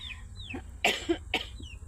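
A pair of harsh, close coughs, one right after the other, with faint bird chirps in the background.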